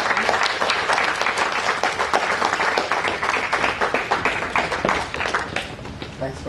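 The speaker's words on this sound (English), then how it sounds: "give him a round of applause." An audience at a film club screening applauds to welcome the director on stage, a loud, full burst of many clapping hands that holds steady throughout.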